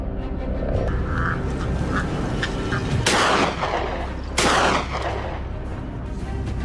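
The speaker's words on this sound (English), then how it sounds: "The shot rings out the instant it fully emerges onto the slope." Two loud rifle shots crack out about a second apart during a wild boar hunt on an open hillside, each ringing with a short echo over a steady outdoor background.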